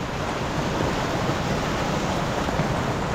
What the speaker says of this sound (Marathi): पाऊस सुरू झालेला आहे